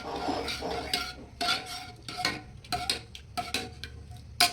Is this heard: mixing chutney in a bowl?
yes